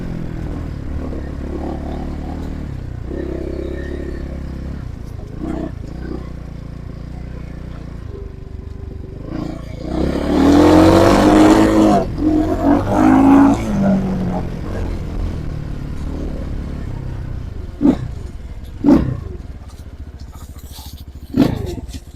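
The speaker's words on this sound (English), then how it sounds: "Definitely want to let the engine get nice and warm." A Trailmaster TM31 engine idles as it warms up, a steady low rumble that swells into a few revving surges midway, followed by quieter idling with occasional sharp knocks.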